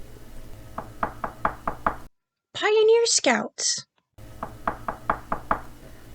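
Loud knocking on a door in two bursts of about five heavy raps each, separated by a brief spoken interjection, set as a creepypasta sound effect.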